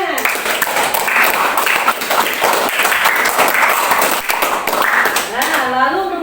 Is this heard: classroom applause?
yes